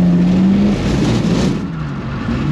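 A BMW 325i accelerating while drifting, its engine droning loudly at steady pitch and then dropping slightly as tyre and exhaust noise continue, with no talking.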